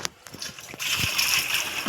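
Water pours and splashes steadily into a container after a few brief knocks, close by and fairly loud.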